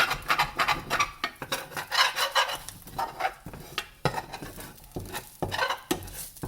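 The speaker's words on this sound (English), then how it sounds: "Let me try to scrape all of this goodness off the bottom of my skillet." A spatula scrapes cooked-on residue from the bottom of a hot skillet in a series of rough, rasping strokes, close and fairly loud, with short pauses between strokes.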